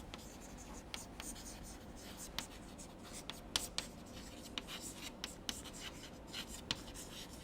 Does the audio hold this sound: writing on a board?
yes